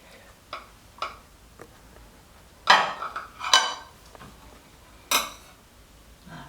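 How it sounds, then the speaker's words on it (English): A knife and plate clink and scrape while a slice of moist carrot cake is cut, several light ticks followed by three louder sharp clatters, close and with no talk. "So I'm gonna cut myself a little slice because I'm just doing a little tasting."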